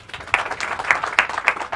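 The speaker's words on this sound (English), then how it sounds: "Clap for our governor." Scattered clapping from a community gathering in Lagos, applauding the state governor; a few sparse, uneven claps over a quiet room, brief and moderately close.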